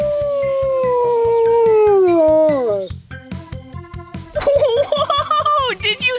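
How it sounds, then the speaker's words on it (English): A wolf howls at a wildlife park in a long, sustained, gliding call that slowly falls in pitch, followed by choppier yips and rising howls over a steady rhythmic background. "that was a howling wolf"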